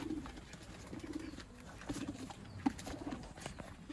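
Sialkoti pigeons coo in a loft or dovecote, their soft repeated throaty calls coming in several short bursts over a low background hum, with no talking.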